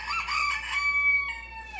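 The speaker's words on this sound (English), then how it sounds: "Noisy roosters." Roosters crow in a farmyard, one long rising and falling call carrying clearly over faint background noise for nearly two seconds.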